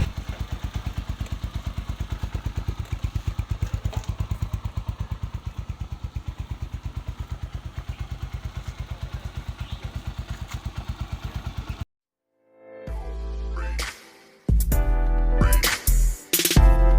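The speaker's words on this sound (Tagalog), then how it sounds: "ang ganda na ng tunog ng kanyang makina ngayon, nawala na yung kanyang lagitik." A Honda TMX 125 Alpha motorcycle idles after a tune-up, its engine thumping in a steady, even rhythm up close for about twelve seconds before cutting off, followed by loud bumps and clatter.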